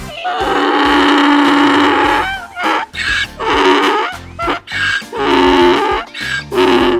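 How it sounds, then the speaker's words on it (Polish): A donkey brays loudly and close by, with a long, strained call followed by a run of rhythmic, alternating honks and wheezing breaths. "Osioł ryczy. Icha, icha."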